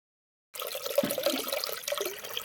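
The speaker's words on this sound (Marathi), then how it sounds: "आवश्यकतेनुसार त्यात पाणी घातलेलं आहे." Water pours steadily into a jug of kokum sherbet, a continuous close splashing gush that starts abruptly after a short silence and runs to the end.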